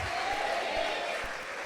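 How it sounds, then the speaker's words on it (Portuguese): Congregation applauding in a church, a dense, even wash of many hands clapping together, close and continuous for a brief moment with no pause. "pode aplaudir esta palavra"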